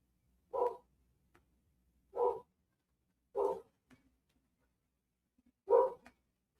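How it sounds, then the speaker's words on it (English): A dog barks four times, single loud woofs spaced a second or more apart, with quiet gaps between. "Oh, my dog is barking."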